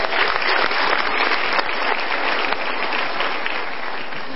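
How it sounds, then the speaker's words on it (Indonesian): Studio audience at a televised motivational talk show bursts into dense, continuous applause, a full even roar of clapping throughout, loud and close. "Kita berikan tepuk tangan sekali lagi."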